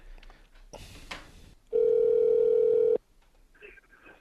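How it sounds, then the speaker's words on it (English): A touch-tone phone dials a number, its tones running steady for about a second after a stretch of soft talk and handling noise, then faint voices return. "Okay, it's dialing."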